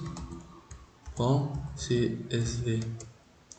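A command is typed on a computer keyboard, with quick clicking keystrokes that are partly masked by someone speaking French.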